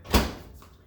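A microwave oven door is handled while rice and water are being cooked, giving a single short, close thud-like click that fades quickly.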